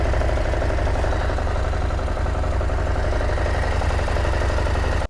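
Husqvarna Norden 901 parallel twin engine running steadily at close range, a loud continuous mechanical drone with a throbbing low rumble and no voices.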